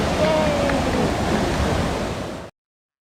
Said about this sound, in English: we headed back to the Trevi fountain